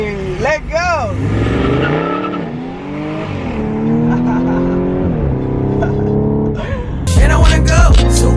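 An Audi S4 car engine revs and whines through rising and falling pitch sweeps, loud and close, with tire noise and a burst of louder revving near the end.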